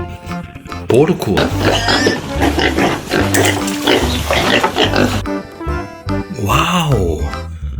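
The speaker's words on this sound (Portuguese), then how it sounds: "Pig!" Pig grunts and oinks from a farm animal toy, a busy stretch of snorting, squealing sounds followed by a short animal call near the end, loud and close, with voices mixed in.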